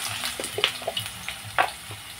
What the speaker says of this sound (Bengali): আলুগুলোকে আমি একটু লালচে করে ভেজে নিচ্ছি।